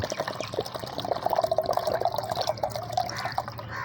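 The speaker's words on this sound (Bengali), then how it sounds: "এই মগটা আবার ঢাইলা নিলাম ওষুধ গুলানোর জন্য" Water pours into a mug to dissolve medicine for sick chickens, a close trickling and splashing stream lasting a few seconds with no voices.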